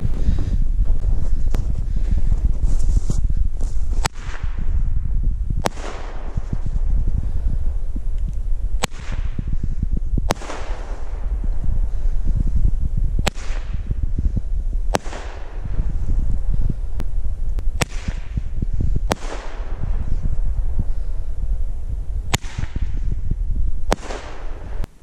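Fireworks cannon shots at a New Year's fireworks display, a series of sharp, loud cracking bangs spaced a few seconds apart over constant wind and crackle noise.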